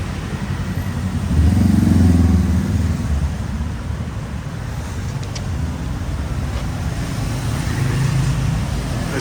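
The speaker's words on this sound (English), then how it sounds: "This is rush hour traffic, by the way." Rush hour traffic in Bangkok near Asoke: a steady road roar with a vehicle swelling past close by early on, then a continuous rumble of engines and tyres.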